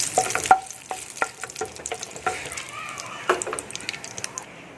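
Two dried red chillies and bay leaves dropped into hot oil with cumin for Bengali-style ghugni crackle and sizzle close by, punctuated by sharp clinks and pops of a spoon stirring.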